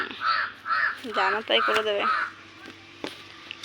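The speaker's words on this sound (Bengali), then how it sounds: "কি কাক ডাকছে বাবা" A crow caws repeatedly nearby, several harsh calls in quick succession, while a person speaks over and between them.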